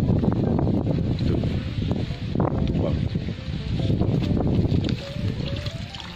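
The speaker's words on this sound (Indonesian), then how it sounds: "suara angin sangat kencang ya" Strong hot-weather wind gusting through rose apple (jambu air) trees and rustling the leaves, a steady loud broadband roar with some buffeting on the microphone throughout.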